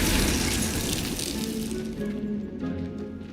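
A Glacius ice spell is cast in Hogwarts Legacy. A loud burst of crackling, rushing noise starts at full strength, then thins into a fading, brittle shimmer over a few seconds.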